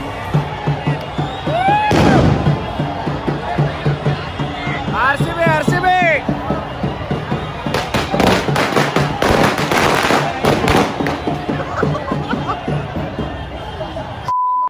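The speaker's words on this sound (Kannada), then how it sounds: "ಮೈ ಮೇಲೆ ಹೋಗತ್ತಾರಪ್ಪ ಪಟಾಕ್ಷಿ ಅವನು" Firecrackers pop in rapid, loud bursts amid a boisterous street crowd at an RCB trophy celebration in Hubli, with cheering and chatter running throughout.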